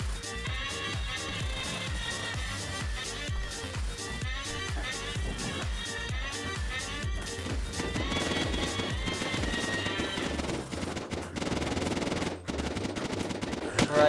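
Rapid gunfire aimed at zombies during a horde in the Unturned survival game, steady rattling shots layered over game music and effects for the whole stretch, loud and continuous.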